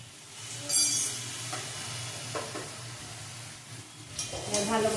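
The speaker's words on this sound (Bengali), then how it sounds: "ভালো করে কষিয়ে নেব।" Spices fried with ginger paste, salt and turmeric in a pan, sizzling softly and continuously while a spoon scrapes and stirs in intermittent strokes, with a low steady hum of a burner underneath.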